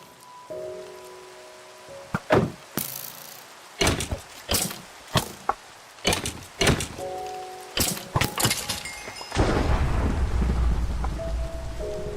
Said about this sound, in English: Thunder and lightning, very, very frightening me